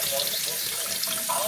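Tap water runs steadily into a sink while vegetables are washed for a potato pepper fry, a continuous close splashing hiss.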